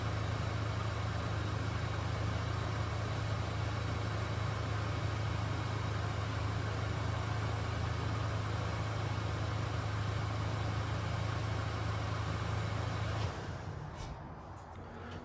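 A Chevrolet Canyon pickup engine idles with a steady low hum and faint vibration, continuing evenly for most of the stretch before dropping off near the end.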